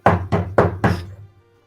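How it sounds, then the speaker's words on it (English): Four firm knocks on a door in steady succession, loud and close, with the last one trailing off into a short fade. "Yeah, I'll knock a little harder."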